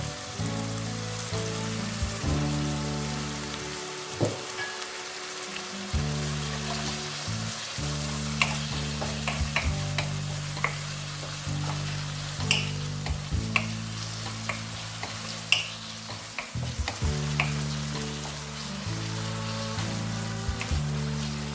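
Chicken pieces seasoned with salt and pepper sizzle in a pan for a chicken pasta with white sauce, with repeated scraping stirs and clanks over a constant frying hiss, no talk.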